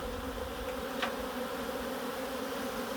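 A dense swarm of honeybees drones steadily and close while a package of bees is installed into a hive, the buzzing continuous and even throughout.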